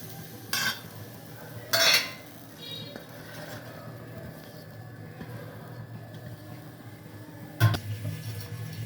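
Grated coconut for naru is stirred in a pan, with a few short scraping strokes of a spoon against metal over a low, quiet background.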